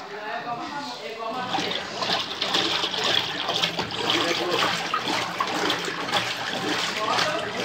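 A Consul Facilite CWG11 washing machine agitates its water on the turbo setting, giving a steady churning, sloshing rush of liquid at close range with no other sound standing out.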